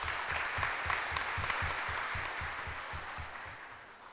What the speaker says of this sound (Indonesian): Tepuk tangan lah, luar biasa.